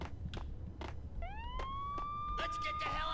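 A police car siren in the video game Max Payne wails upward and holds a steady tone, fairly close, with clicks and game sounds around it.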